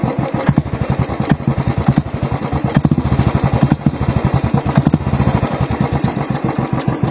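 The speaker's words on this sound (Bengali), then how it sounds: "এবার হালকা রেপ করে দেখছি।" A 2017 Royal Enfield Classic 350 engine is revved lightly, rapid loud thumping firing pulses that quicken and swell in short bursts, recorded close with no voices.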